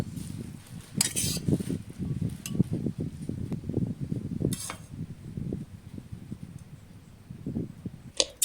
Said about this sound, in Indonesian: Kemudian oseng-oseng supaya bumbu meresap merata.